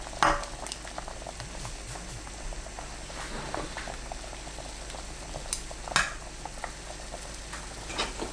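Korean beef and taro soup broth simmers in a covered pot, a quiet steady bubbling with soft popping and a few light clinks, heard close and alone.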